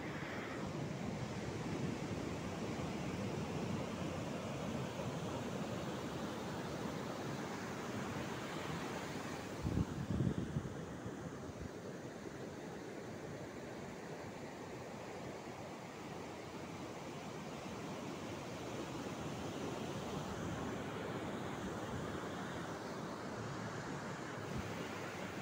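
Steady roar of sea waves and surf at a coconut-grove beach near Pelabuhan Ratu, Sukabumi, continuous and broadband throughout with a brief louder splash or thump near the middle, no voices present.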